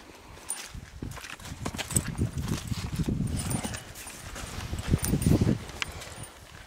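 A mare's hooves clip-clop at a slow walk on firm ground, soft and somewhat distant, in an uneven rhythm with a few louder steps.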